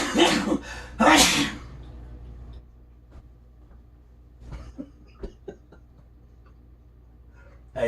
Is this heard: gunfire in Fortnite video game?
no